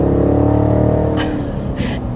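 The V8 engine of a 2025 BMW X6 rumbles close and loud in a steady, even drone, with two brief hissy bursts partway through.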